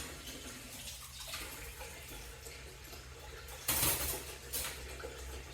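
Rotisserie skewers and a rotisserie cage rinsed under a running kitchen tap, a steady wash of water with brief louder splashes and clinks of metal near the end.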